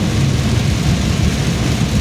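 Heavy unseasonal rain pours steadily in a dense, loud hiss, with deep low rumbling underneath and no voices, on a road trip in April or May.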